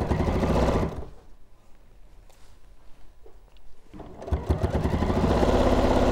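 A sewing machine stitching a pocket on a tote bag runs loud at first, stops for a few seconds of near quiet, then whirs back up into a steady rapid hum.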